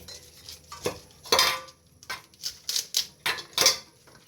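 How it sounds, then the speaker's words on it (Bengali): A knife chops onion stalks on a board in a Bengali home kitchen, giving a quick run of close, crisp taps in an uneven rhythm with no talking. "এই যে দেখেন পেঁয়াজের কুলি কাটবো এখন"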